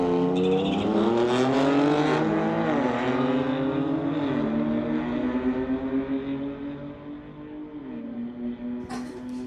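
Two BMWs, one a 2005 model, launch side by side at a street-legal drag race, engines roaring loud and close as revs climb and drop through gear shifts, with a brief crackle at the end.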